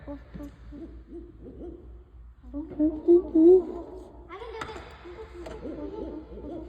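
A human voice imitates the rhythmic hoots of an eight-hooter owl, several hooting phrases that rise and fall in a near, moderately loud rhythm, with talking in between.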